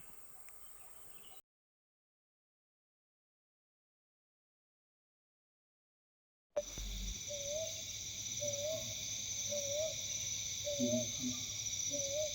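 At night in Nagarhole, India, an owl gives about five short, repeated hooting calls at a steady rhythm, fairly near, over a constant high insect drone and faint background noise.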